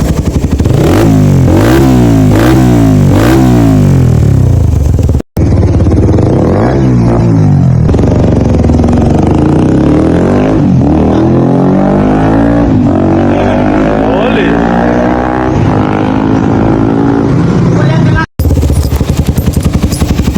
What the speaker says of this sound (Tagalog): Ganyan ang tunog ng muffler niya guys.